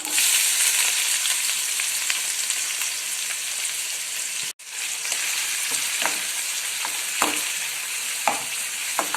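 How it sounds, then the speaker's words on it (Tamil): Chopped onions sauté in hot oil with ginger-garlic paste and curry leaves for a Tamil poriyal, giving a steady, loud sizzle and crackle throughout. Occasional sharp clicks of a spatula stirring the pan break through, with one brief dropout midway. "வெங்காயம் நல்லா வதங்கட்டும்"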